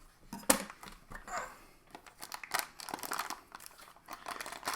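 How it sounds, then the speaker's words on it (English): Scissors snip and crinkle through black vacuum-sealed plastic packaging for Cricut Infusible Ink, a close run of sharp cuts and crackling plastic rustles with uneven rhythm. "You will just take some scissors."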